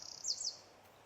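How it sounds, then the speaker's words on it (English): A blackbird sings a brief, clear phrase in a garden, a single bright call of about half a second rising above a steady quiet background. "That is the blackbird. So it'll talk, and then the one in the distance will talk."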